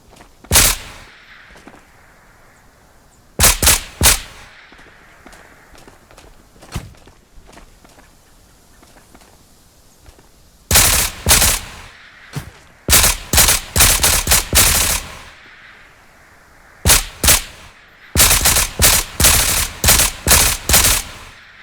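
Gunfire in the VR shooter Ghosts of Tabor: isolated loud shots, then rapid bursts of close automatic fire in several clusters with quiet gaps between them and no voices.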